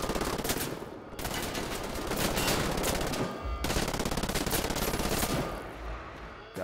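Dense, sustained automatic gunfire from enemies in the Xbox One shooter Wolfenstein: The New Order, loud and continuous rattling bursts with brief breaks, no voices over it.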